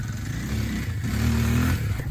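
A Yamaha Blaster ATV engine revs hard and steadily up close while the rider tries a wheelie on a farm ride, its rough exhaust note holding loud for about two seconds.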